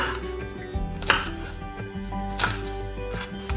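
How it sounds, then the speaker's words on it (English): A knife slices spring onions lengthwise on a board, giving a few crisp, irregular chops and cuts close by, with quieter scraping between strokes. "So I quite like slicing them long,"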